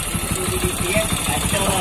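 A Honda EX5 motorcycle engine fitted with a racing block, idling close by with a rapid, even putter and slight knocking vibration, steady and loud.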